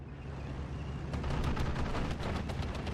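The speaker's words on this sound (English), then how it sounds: "So now the 122mm off map, can it hit the mark?" Distant 122mm off-map artillery barrage in the strategy game Steel Division 2, a rolling series of muffled booms and bursts building after a quiet start, fairly faint.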